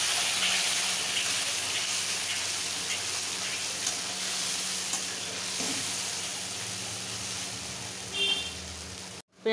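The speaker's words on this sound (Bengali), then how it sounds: "আলুর যে তেলটা ছিল ওর মধ্যে তেল দিয়েছি অল্প, আর তেজপাতা দিয়ে দিলাম, আর এখানে 1-2টো এলাচ দিয়ে দিলাম, আর দিয়ে দিলাম মশলা।" Bay leaf, one or two cardamom pods and spices fry in a little leftover potato oil for a home-cooked mutton dish. A steady, close sizzle hisses throughout, with a brief clatter just before it cuts off.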